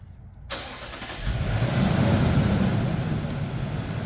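A Toyota Land Cruiser 200 Series starts by remote start after a brief quiet moment: the engine cranks and catches, then settles into a steady, moderately loud idle without any talk.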